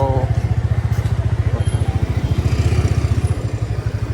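Motorcycle with a factory silencer idling close by, a steady low rapid thump of exhaust pulses holding an even rhythm throughout, faint voices beneath.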